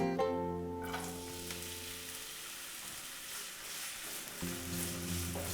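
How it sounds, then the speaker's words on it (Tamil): Two medium chopped onions sizzle and crackle steadily in hot oil in a pan, a soft continuous hiss with a faint tonal hum underneath. "கடாயில் 2 மீடியம் சைஸ் வெங்காயம் நல்லா நறுக்கி வச்சிருக்கேன். அதை போட்டுக்கலாம்."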